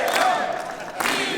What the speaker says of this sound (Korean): 연설이 끝나고 나서 민주당 의원들은 이 대통령을 연호하며 배웅했습니다.